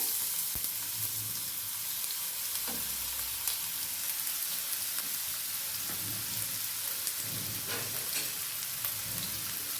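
Finely chopped onion sautéing in hot oil while being stirred, a dense continuous sizzle with scattered crackles and occasional scraping knocks of a spoon against the pan, close and steady.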